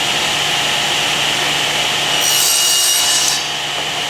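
A saw cuts through wood guided by a miter gauge, giving a continuous loud whirring rasp that swells brighter and harsher midway through the cut before easing back.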